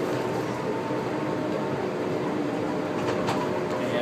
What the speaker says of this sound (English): And this is the tram that goes behind all the hotels on the strip.